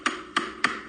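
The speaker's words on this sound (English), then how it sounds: "I'm using a mallet, a hammer here as a mallet." Three sharp, evenly spaced metallic strikes of a hammer used as a mallet driving a woodworking chisel, each a close, crisp knock with a brief ring.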